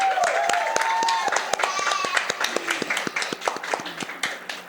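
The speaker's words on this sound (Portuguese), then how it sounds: "Gostaria de uma salva de palmas para a mãe Lúcia de Itajarina." Audience applause for Mãe Lúcia de Itajarina at the close of a podcast episode, a burst of individual claps that thins into scattered, uneven hand claps, with speech over the start.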